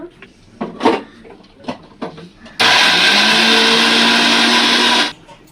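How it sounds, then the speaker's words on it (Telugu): A few brief voice sounds, then a mixer grinder whirs loudly and steadily for about two and a half seconds, grinding spices with garlic, before cutting off. "కొన్ని ఎల్లుల్లిపాయలు అయితే వేసుకుని మళ్ళీ మిక్సీ పట్టుకుంటాను"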